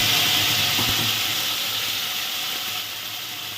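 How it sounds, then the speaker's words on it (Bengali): Tomato and ginger paste hits hot oil with bay leaf and cinnamon while cooking a paneer curry with cauliflower and capsicum, giving a steady broadband sizzle and hiss that fades slightly toward the end, with no talking. "এবার এর মধ্যে দিয়ে দেবো টমেটো আর আদা পেস্টটা"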